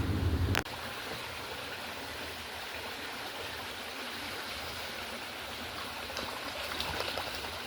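Steady broadband rush of a stream flowing past a riverbank during trout fishing, continuous and fairly close, with a brief louder splash or knock at the start and no talking.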